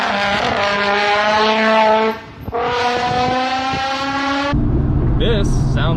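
Nissan 350Z with its VQ V6 revving hard, the engine note climbing and falling through two long pulls with a brief dip between, loud and close, followed by a sharper change in tone near the end.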